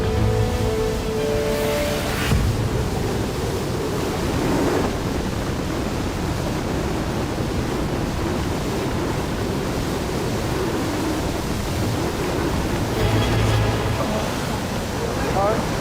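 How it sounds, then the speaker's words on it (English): Powerful rushing river water roars steadily and loudly, a constant turbulent surge with a voice speaking faintly beneath it. "the huge surge that's pulling at our legs under the water"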